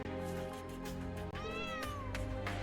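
A cat meows in the video game Trails of Cold Steel III. One clear, drawn-out meow rises above steady game music and ambience.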